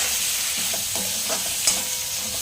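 Salted tomatoes being stirred in a pan over medium heat while making matar paneer, a steady soft sizzle under a few scraping spoon strokes, close and continuous with no talking.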